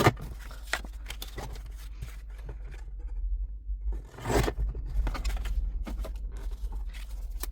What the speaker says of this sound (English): No, I'll cut it at 2 inch.